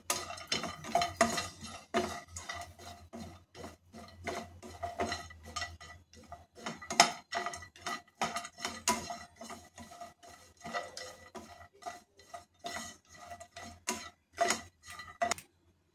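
Grated dried coconut is dry-roasted in a pan for sesame chutney, with a steady run of quick scraping and clinking strokes from a spatula against the metal, fairly close and continuing throughout.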